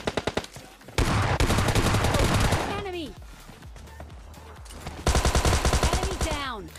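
Gunfire in the mobile shooter PUBG Mobile Lite, including S12 shotgun fire: rapid bursts of loud automatic shots at the start, a sustained volley, then another dense rattling burst near the end, with game effects mixed in.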